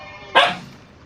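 A single short, sharp puppy bark or yip rings out close by during a scuffle over toys, then fades into quiet.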